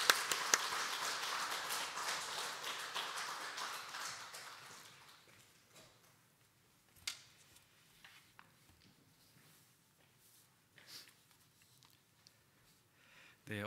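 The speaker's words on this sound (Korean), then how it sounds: "우리 박수로 환영하겠습니다" A church congregation applauding to welcome the pastor at a Sunday morning service, a loud burst of clapping that fades away over several seconds into a quiet room with a few stray claps.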